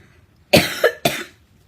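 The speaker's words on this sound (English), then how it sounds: "I'm sorry, I have a cough." Two harsh, close coughs in quick succession, the first with a short follow-up hack, then quiet.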